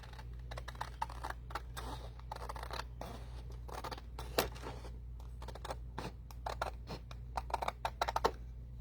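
Scissors snip through paper while cutting out a yellow brick road piece for a folio craft, a run of close, crisp clicks and slices with short pauses, alone over a steady low hum.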